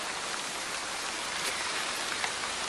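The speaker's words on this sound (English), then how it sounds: "Starting to rain again. Really heavy." Heavy rain pours steadily outside near a cathedral under repair, a dense, loud, unbroken hiss of water with occasional louder drops and no voices.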